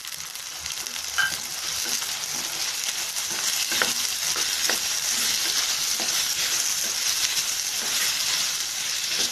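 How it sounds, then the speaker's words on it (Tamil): Carrots and green peas being stirred into vermicelli biryani in a hot pan, giving a steady close sizzle with soft, repeated scraping strokes throughout and no talking. "சேர்த்துட்டு எல்லாத்தையும் நல்லா கலந்து விட்டுறலாம்"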